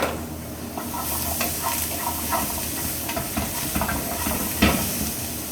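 Tomato puree being stirred in a hot pan with browned onions, a steady sizzle and hiss under repeated scraping strokes of a spoon, close and continuous.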